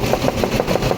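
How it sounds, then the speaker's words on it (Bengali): An oil filter machine at work in a mustard oil mill runs loud and close in a fast, steady mechanical chug, with evenly spaced pulses repeating several times a second. "আমি ফিল্টার মেশিনটা আবার দেখাচ্ছি এবং তেলটা আপনারা কাছ থেকে দেখতে পারেন"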